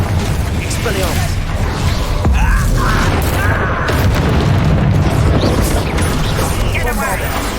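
A Confringo explosion spell goes off in Hogwarts Legacy amid combat, with heavy booms and mechanical clatter continuing throughout under overlapping voices and battle effects.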